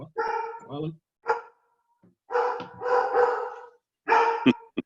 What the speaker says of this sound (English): is that your dog, Terry?